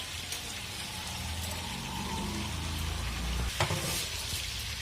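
A big batch of onions, about 1.5 kg, frying in melted ghee for a large chicken biryani, giving a steady broadband sizzle with low rumbling bubbling and a few stir clatters near the end.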